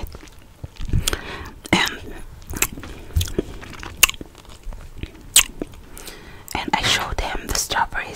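Crunchy bites into chocolate-dipped strawberries, close and intimate, with soft whispering woven between the bites and wet chewing sounds.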